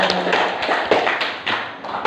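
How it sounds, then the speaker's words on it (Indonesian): An audience of teachers and parents at a school exam meeting claps together, a loud, close, dense patter of hands that holds steady for about two seconds with slight swells. "Tepuk tangan untuk Bapak Ibu semuanya"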